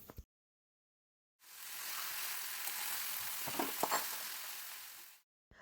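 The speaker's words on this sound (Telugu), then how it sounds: "ఆయిల్లో ముక్కలన్నీ వేయించాలండి" Eggplant pieces tossed with salt and turmeric fry in hot oil for a curry, a loud, close sizzle that starts abruptly, carries a few stirring clicks, and then cuts off.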